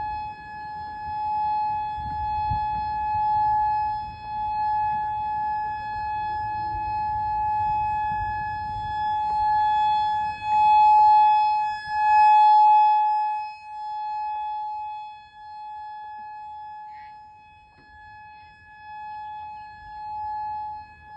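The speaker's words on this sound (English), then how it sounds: "I recorded this siren at 5:10 on Tuesday." A warning siren at Kauai Harbor sounds a steady, loud tonal wail held for about twenty seconds, swelling briefly midway, with faint low background rumble early on.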